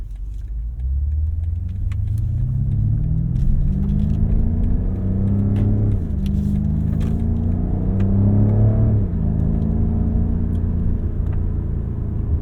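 A 2021 BMW F90 M5 engine drones and rises in pitch as it accelerates, with gear shifts and a deep, steady induction roar throughout.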